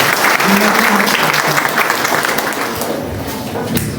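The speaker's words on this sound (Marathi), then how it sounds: "एकदा जोरदार टाळ्या विकासजी मीना सर." Loud, enthusiastic applause from a college audience at a National Voters' Day event greeting the chief guest, a dense crowd of clapping that holds strong and then eases slightly toward the end.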